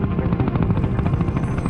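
A helicopter in flight over volcanic islands, a loud, close, continuous rotor thump with a rapid steady beat and engine whine.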